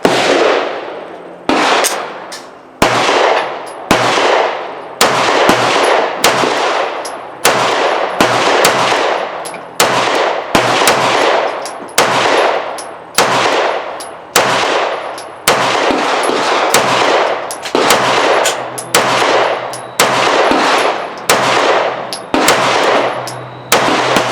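Sarsilmaz B6 9mm pistol fired in a long, fast, steady string of roughly twenty loud, sharp shots, each with a brief decay, and no talking.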